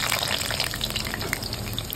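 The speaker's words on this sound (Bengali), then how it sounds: "আলুগুলো একটু ফ্রাই করে নিই" Potato pieces fry in hot oil in a wok, giving a steady, close hiss and crackle that holds at one level the whole time with no talk.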